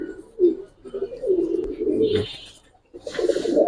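A Giribaz pigeon coos in low, throaty, repeated phrases close by, with a brief pause before the cooing resumes.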